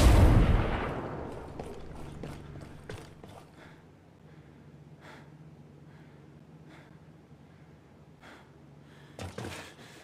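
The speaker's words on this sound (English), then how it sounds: "Grenade!" A loud, close grenade blast in Ghost Recon Breakpoint opens with a heavy rumble that fades over about two seconds. Scattered sharp gunshots crack at intervals, ending in a quick burst near the end.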